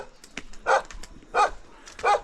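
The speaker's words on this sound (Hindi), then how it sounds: "चुप जा काय को भौंक रिया।" A dog in a Himalayan village near Almora barks three times in evenly spaced, fairly close, sharp barks, with faint background sounds between them.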